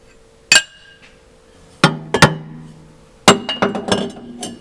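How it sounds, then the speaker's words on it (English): A wrench fitted with a bar breaks loose a jam nut on a tie rod in a workshop, giving several sharp metallic clinks and knocks in irregular clusters, close and fairly loud. "Take a bar, put a bar on my wrench so I have more leverage, and back it off."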